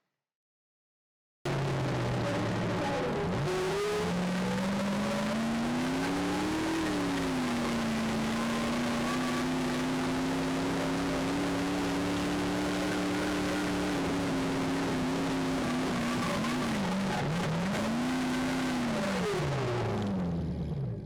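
Race car engine accelerating hard through a pull: a loud, steady drone climbs and holds in pitch for many seconds, dips around a shift, then surges again near the end.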